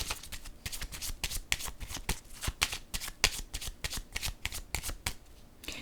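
Cards being handled, shuffled and laid down in a rapid series of crisp flicks and slaps, close up, with a few sharper snaps standing out.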